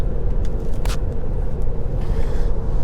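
Inside a Tesla Model 3 driving on a motorway from Lisbon to the Algarve, a steady low road rumble with tire and wind noise fills the cabin, continuous and fairly loud.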